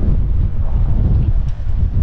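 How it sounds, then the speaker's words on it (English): Strong wind buffets the microphone, a steady low rumble with gusty surges throughout, loud and close. "Oh, it's windy."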